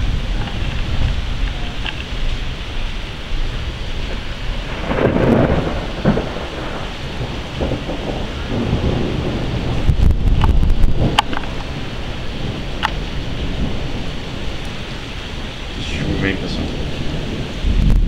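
Heavy rain falling steadily in a thunderstorm, with low rumbles of thunder and gusts of wind buffeting the microphone, a loud, continuous stormy wash.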